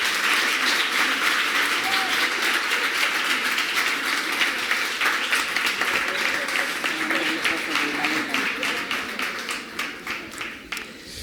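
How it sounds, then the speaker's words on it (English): An audience at a kids' competition on a playground stage applauds for a long stretch, a thick, even clapping that slowly thins to a few distinct claps near the end, with faint voices underneath. "Big applause, please."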